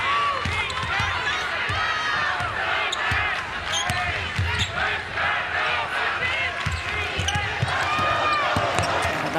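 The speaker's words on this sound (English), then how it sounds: "Nice applause when she exited the game." A large arena crowd at a women's college basketball game, UConn against Villanova in the Big East Tournament final, applauds and cheers steadily as a player leaves the court, with sneaker squeaks and shouts mixed into the dense roar.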